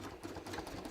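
Sewing machine stitching around a bathrobe, a short burst of fast continuous mechanical whirring with no voices.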